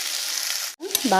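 Potatoes and onions for a curry sizzle in a pan with a brief, close frying hiss before a voice begins to speak.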